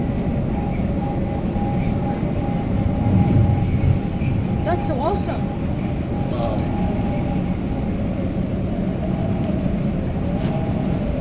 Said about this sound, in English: This is the last train from Demontine.